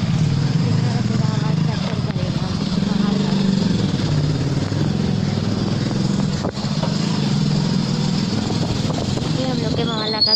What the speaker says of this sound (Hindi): हम लोग बाइक से जा रहे हैं।